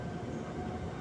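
MRT metro train in the Philippines starting to move, a steady low rumble and rolling rail noise close by inside the carriage, continuous throughout with no talk.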